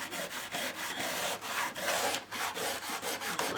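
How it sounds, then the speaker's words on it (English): The rusty rail of a Scalextric slot car track gets scrubbed with a steady rough back-and-forth rubbing, close up and fairly loud in quick repeated strokes, with no talking. "Let's tackle this corner and see if we can remove that rust."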